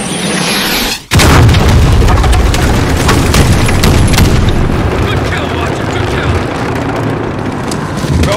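Called-in artillery strike hitting troops at a bridge in Call of Duty Modern Warfare: after a short lead-in, a loud booming impact opens into sustained rumbling blasts and debris for several seconds.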